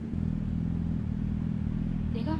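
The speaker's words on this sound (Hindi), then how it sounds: "सो अभी मैं आपको इसकी इंजन साउंड सुनाता हूँ." Kawasaki Ninja motorcycle engine in a video game, a steady low idle drone filling the clip with a brief revving rise near the end, loud and continuous with no talk.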